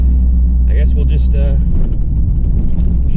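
A gasser project car cruising on the road: heavy, loud low engine rumble from inside the cabin runs continuously while someone talks over it.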